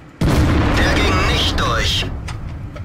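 A tank cannon fires in a video game battle against a T95, one loud sudden boom that rumbles and slowly fades while someone talks over it.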